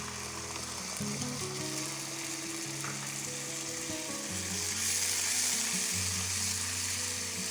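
A thick masala with ginger-garlic paste and yogurt sizzles steadily in a hot pan while a spoon stirs and scrapes through it, the frying hiss swelling slightly midway.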